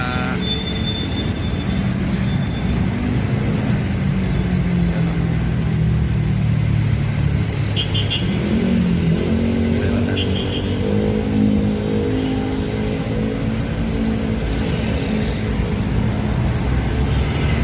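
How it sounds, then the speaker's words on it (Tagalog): Jeepney engine revs and pulls away, heard from on board, with rising and falling gear sweeps over constant road rumble, and brief faint sounds near the middle. "Sasakay tayo dito ng jeep"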